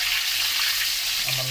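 Water spinach stir-frying in a little oil, a steady close sizzle with scraping stirring throughout and a brief low tone near the end.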